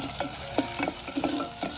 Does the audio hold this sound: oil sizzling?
yes